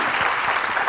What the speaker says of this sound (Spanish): te damos el mejor aplauso de toda nuestra vida